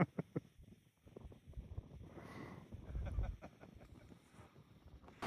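Wind gusts rumble across the microphone in low, uneven bursts, strongest midway, with faint background noise throughout.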